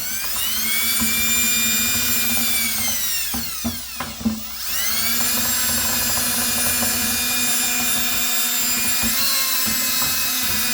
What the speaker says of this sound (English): Let me grab my drill real quick.